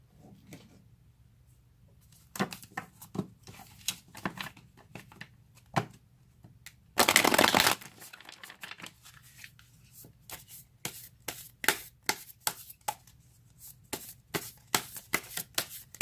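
Tarot cards are handled at close range: soft scattered taps and slides, one loud riffle shuffle in the middle, then a run of crisp card snaps and flicks as cards are drawn and laid down, with no talking.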